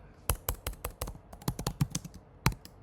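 Rapid keystrokes on a computer keyboard while entering a duration into an online maintenance form, a quick burst of close, crisp clicks with uneven rhythm and brief pauses, no talking.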